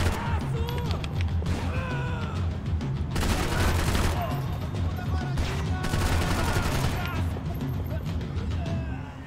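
Rapid bursts of gunfire and shotgun blasts ring out in the Max Payne 3 game, dense and loud in repeated volleys, with someone talking between the shots.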